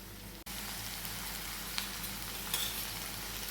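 Ivy gourd curry cooks slowly in a pan with a soft, even, continuous sizzle and hiss that stays faint and close, broken only by a single sharp click near the start and a couple of tiny pops.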